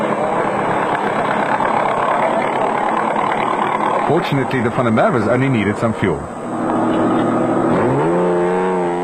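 A Mitsubishi Colt rally car engine idles and revs in the pits, loud and close, with a narrator speaking over it.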